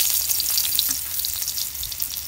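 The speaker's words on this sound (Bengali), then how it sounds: "এখন আমি তেল দিয়ে ম্যাগি গুনা ভাইজা নেব। পেঁয়াজ দিলাম," Sliced onions fry with boiled Maggi noodles in hot oil, giving a steady, close, hissing sizzle with small crackles throughout and no voices.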